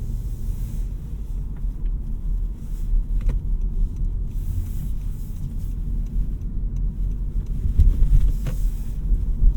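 Cabin noise inside a 2023 Honda Civic EX with the 1.5-litre turbo engine while driving: a steady low road rumble and muted engine drone, with a few faint clicks and creaks.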